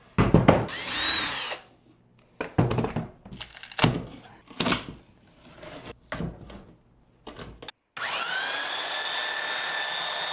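A power drill backing screws out of closet trim. Several loud whirring bursts come in short, uneven bursts with knocks and thuds between them, followed by a long, steady whine.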